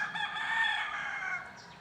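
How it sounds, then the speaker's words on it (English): Roosters crow near a hillside camp, one sustained call that sounds fairly close and stands clear of any talk. "There's a bunch of roosters up there."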